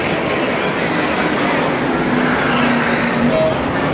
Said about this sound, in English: Cars on the move.